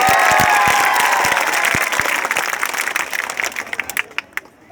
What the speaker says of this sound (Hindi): जोरदार तालियां इन माँ और बहनों के लिए।